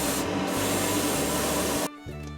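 A cutting machine works through internal cutouts in tissue box parts, a loud, steady rushing and grinding hiss that holds for about two seconds before dropping away to a quieter hum.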